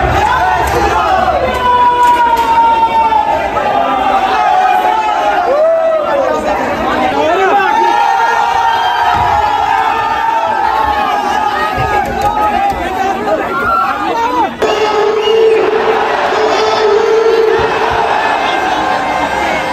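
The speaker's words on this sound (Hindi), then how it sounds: "बहुत भीड़ है" Large, dense crowd of spectators at a cricket match, a continuous roar of chatter, shouts and cries close around, loud throughout with voices overlapping and no pause.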